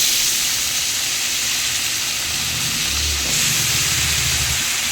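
Onions, vegetable stalks and potatoes frying in a kadai, giving a loud, steady hiss and sizzle close up, with a low rumble partway through and no talking.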